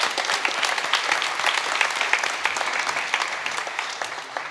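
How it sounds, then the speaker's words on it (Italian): A crowd claps warmly at the inauguration of the San Valentino fair in Bussolengo, many hands striking in a dense, continuous patter that holds evenly from start to finish. "io vorrei un grande applauso innanzitutto per loro"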